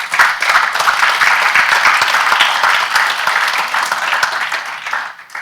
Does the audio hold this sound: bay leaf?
no